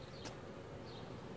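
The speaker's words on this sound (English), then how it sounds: "that's a lot of bees that are outside the hive" Honeybees swarm loosely outside their hive after a setback, giving a steady, even insect hum across the whole moment with no voices.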